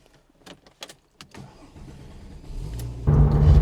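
A few clicks and thumps, then a Porsche 911 (996) Turbo engine cranks and catches, settling into a steady idle before a sudden louder rev.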